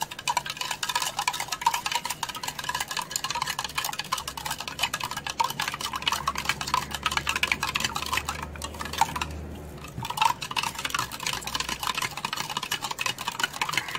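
A spoon stirring homemade iced tea, with rapid continuous clinking and tapping against the glass, close and steady throughout.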